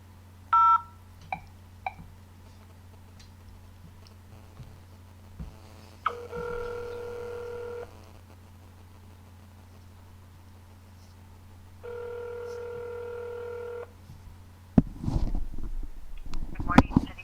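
Telephone call placed to a city hall office in Winsted, Minnesota: a short burst of touch-tone dialing beeps, then two long steady ring tones separated by a pause, followed by louder noisy line sounds as the call connects.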